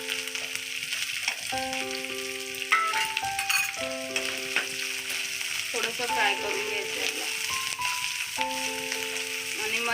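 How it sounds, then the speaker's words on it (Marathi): Capsicum sizzles and crackles in a hot pan, with occasional stirring, while steady musical tones play in the background. "शिमला मिरची टाकते"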